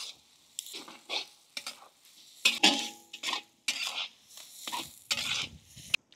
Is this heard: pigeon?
no